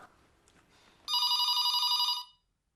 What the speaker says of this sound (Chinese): 又是你跟 Steven 的来电时间喽？